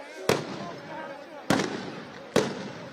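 Police fire tear gas shells at protesting farmers near Delhi, giving three sharp loud bangs spaced about a second apart over a noisy crowd.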